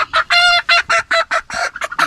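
Barred Rock chicken clucking close by in a rural farmyard, a quick run of about ten loud, choppy clucks and squawks in an uneven rhythm, with no talk over them.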